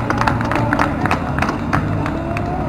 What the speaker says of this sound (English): round of applause for Xander